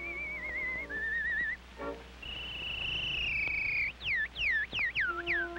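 A whistling artist performs on an early phonograph recording, the melody coming as wavering sustained notes, then a long held tone, then a run of quick swooping chirps, with a faint surface hiss beneath.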